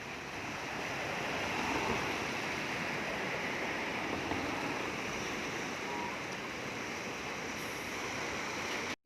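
Waves roll and wash steadily on a wide river, a continuous broadband rush of water mixed with wind buffeting the microphone, holding at an even level until a brief drop at the end.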